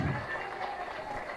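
A crowd at a political meeting in Telangana claps in a brief, dense burst of applause that fills the whole moment, with some voices mixed in.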